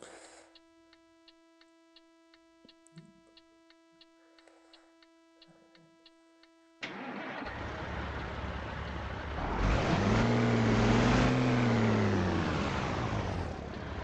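In the Grand Truck Simulator 2 video game, a truck engine cranks and starts after quiet ticking indicator clicks, then settles into a loud, steady diesel rumble that swells briefly as it revs.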